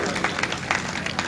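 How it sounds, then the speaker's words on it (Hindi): A brief burst of loud, close applause comes from the audience at a 2025 mushaira poetry gathering in Amroha, with dense clapping and crowd noise carrying uneven surges throughout. "एक बार हौसला देते जोरदार तालियां बजा के"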